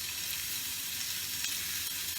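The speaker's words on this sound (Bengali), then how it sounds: "পেঁয়াজটা ভাজা হোক" Onions frying in a pan for a katla fish dish give off a steady, even sizzle with no talking, soft and consistent from start to end.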